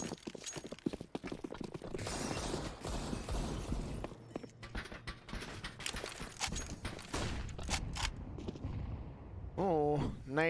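Grenades burst during a competitive Counter-Strike match on the Vertigo map, with sharp blasts, gunfire cracks and clattering impacts throughout, overlaid by game noise and a rising synthetic sweep near the end.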